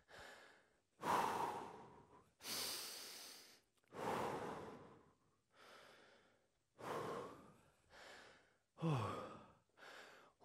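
Heavy breathing during recovery after a HIIT workout: seven deep, loud breaths in a slow, regular rhythm, each a long sighing exhale with brief gaps between, close and alone.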